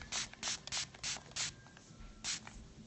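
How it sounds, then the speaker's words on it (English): A hand spray bottle mists fabric until it is stiff, giving six sharp hissing spritzes close by, five in a quick irregular run and then one more after a short pause, without any talk. "I'm going to spray a little bit more here then"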